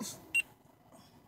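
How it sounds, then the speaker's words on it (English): A short electronic beep from a phone connecting, one quick chirp over quiet background. "That's my phone connected."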